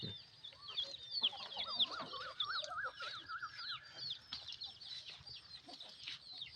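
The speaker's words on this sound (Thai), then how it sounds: "มาเบิ่งไก่" A flock of farm chickens clucks and chatters continuously at close range in the evening, with overlapping calls and no talking.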